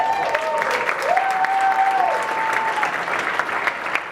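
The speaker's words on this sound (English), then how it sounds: "One more round of applause for Sweatpack." Audience applause at a startup pitch night at Atlanta Tech Village, sustained and full, with a thin steady tone running through part of it.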